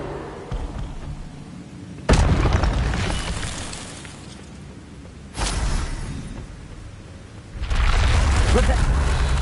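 The Incendio fire spell is cast three times in the Hogwarts Legacy video game, each one a sudden loud whooshing burst that decays slowly, with the last sustaining longer.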